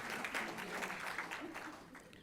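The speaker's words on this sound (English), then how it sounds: "let's give them a round of applause." Audience clapping steadily for event sponsors at a community center's anniversary gathering, a dense, even patter of many hands lasting a couple of seconds at moderate volume.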